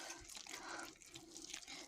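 Warm water is poured to dissolve dry yeast with sugar for pie dough, giving a soft, uneven trickle and splash that keeps going at low volume, with no voices.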